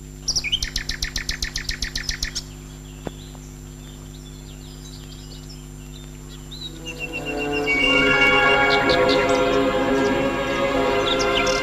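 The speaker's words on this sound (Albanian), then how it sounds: "O dëgjoj zogjt, kanë filluar të këndojnë zogjt." Quick repeated chirps at first, a quiet gap, then a dense chorus of many birds singing together, loud and close.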